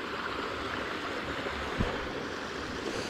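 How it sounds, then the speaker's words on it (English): A brook flowing through the village of Drayton in a quiet rural spot makes a steady soft rushing wash throughout, fairly faint and even, with no voices. "I'll have to look up the name of this brook."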